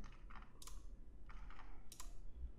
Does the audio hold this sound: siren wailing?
no